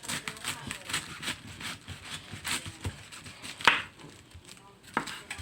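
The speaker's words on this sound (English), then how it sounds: "Just cut it in chunks." Cabbage cut into chunks with a kitchen knife while preparing chicken caldo: a run of steady chopping thuds on a board, each stroke short and close, with a few sharper knocks near the end.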